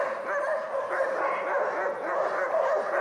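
Dogs bark, yip and whimper almost continuously on stage during a theatre performance of Castellucci's Inferno, a restless mix of excited canine cries filling the space.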